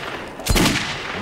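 A single sharp gunshot fires in the video game Metro 2033, a close, loud burst with a brief tail, alone without talking.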